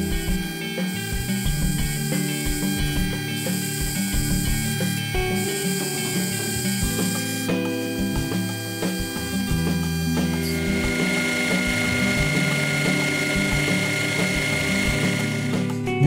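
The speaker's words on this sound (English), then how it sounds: "The first step was to turn the basic profile of the screw." Steady mechanical whirring and grinding of a lathe turning a small metal clock bezel screw, with rhythmic clicking and a brighter, hissier cutting tone partway through.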